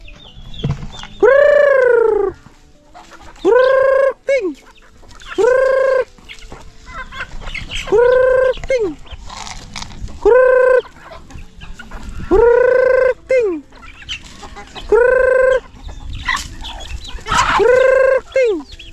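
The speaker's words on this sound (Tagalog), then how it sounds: "Ito yung mga chicken dito sa kabila." Native chickens on a farm, with a rooster crowing repeatedly in loud, evenly spaced calls about every two and a half seconds, hens clucking softly in between.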